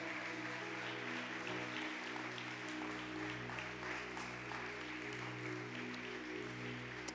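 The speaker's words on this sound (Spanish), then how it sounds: "Dale un aplauso," A congregation claps in a church service, a soft, steady wash of applause heard from a distance under a low sustained organ or keyboard drone.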